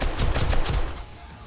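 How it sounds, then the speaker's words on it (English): Automatic turrets in 7 Days To Die, firing from a water horde base, spray a rapid, loud burst of machine-gun fire at zombies. The fire then cuts off abruptly, leaving a low background rumble. "Turrets lighting them up."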